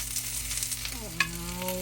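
Birria tacos with cheese fry in a greasy pan, about three at once, making a continuous close sizzle with one brief clink partway through, and no speech.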